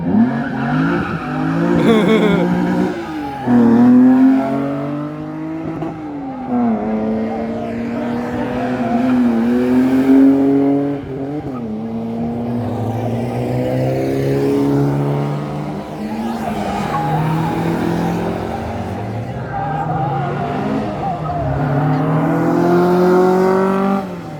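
An Alpine race car climbs a hill-climb course, its engine revving hard through repeated upshifts and downshifts, loud and close for the whole stretch as it passes by.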